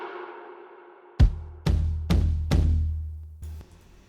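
Distorted drums with tom samples after a soft ambient synth pad, four heavy booming hits in a steady rhythm, each ringing out loud and close, followed by a lighter hit at the end.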